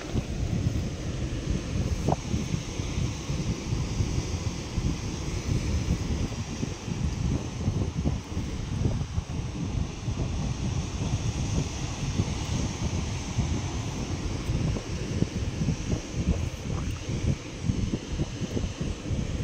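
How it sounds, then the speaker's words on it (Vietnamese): Strong, gusty wind buffets outdoors without a break, roaring and rustling loudly across the microphone while leaves and branches thrash in the background. "Gió như điên."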